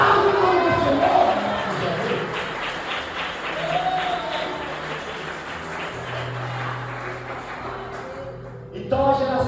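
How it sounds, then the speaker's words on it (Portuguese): A church congregation applauds during an evening service, sustained clapping mixed with crowd cheers and shouts that stay loud throughout, with voices rising over the steady wash of hands. "Aplauda o nome do Senhor nessa noite"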